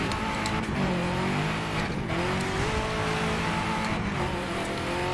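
A rally car engine in the racing game DiRT 2 drones and revs steadily through gear changes, with tyre noise and a brief squeal. The sound is loud and continuous, with no talking.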